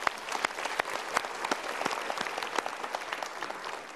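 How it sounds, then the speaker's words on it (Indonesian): Audience applause at a motivational seminar, a dense steady clatter of many hands clapping together, close and sustained for several seconds with a faint murmur of crowd beneath. "Kita berikan tepuk tangan dulu."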